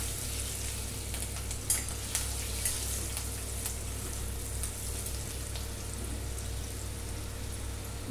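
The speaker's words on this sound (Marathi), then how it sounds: "मसाला चांगला फ्राय झालेला आहे" Masala of turmeric and homemade red chilli powder frying in a pan, a steady soft sizzle running throughout with a few faint clicks of stirring, no voices.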